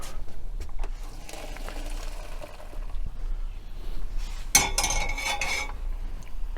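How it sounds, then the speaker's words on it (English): Noodles being strained in a home kitchen while cookware clatters: faint scattered clinks early, then a louder burst of pot and pan rattling midway that fades out, with no talk. "We are going to strain the noodles."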